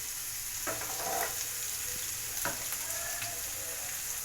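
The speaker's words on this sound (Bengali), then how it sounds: "তো এইখানে আমি একটু পেঁয়াজটাকে ভালো করে ভেজে নিই" Onions fry in oil in a pan, a low steady sizzle broken by a couple of brief spatula scrapes, fairly quiet and close.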